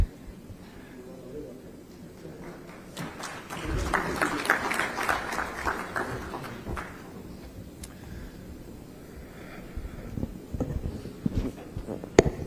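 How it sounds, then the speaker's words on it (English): A conference audience at an international aerospace manufacturing meeting in Visakhapatnam gives a round of applause. Quiet room sound gives way to a burst of clapping in the middle that fades back, with scattered claps and speech around it. "Ladies and gentlemen, a round of applause for sir"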